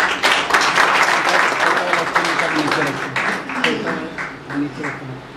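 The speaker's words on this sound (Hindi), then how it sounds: "आप सभी के सम्मान में एक बार जोरदार तालियां हो जाएं।" Audience applause at a Hindi poetry recital, a dense, steady wash of many hands clapping throughout, with a voice faintly heard beneath the crowd.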